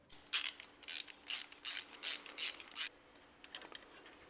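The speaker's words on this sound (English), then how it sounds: "take a pair of pliers and pull it out" Pliers working the wire safety clip out of a Harley brake caliper pin, giving a run of about eight crisp ratchety metallic clicks and scrapes in a steady rhythm, close and alone, followed by a few fainter clicks.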